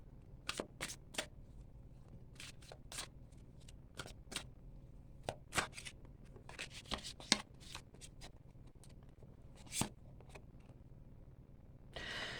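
Tarot cards are shuffled and riffled in quick, crisp bursts, sharp flicks scattered across a quiet background with short pauses between.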